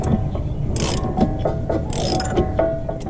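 A hand ratchet clicks steadily, turning in rapid bursts of sharp metallic pawl ticks, close and loud, while pressing in a front wheel bearing on a 2003-2008 Honda Pilot.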